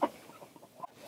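A golden rooster in a cold mountain coop gives a few faint, short clucks, one sharper note at the start, then soft scattered calls.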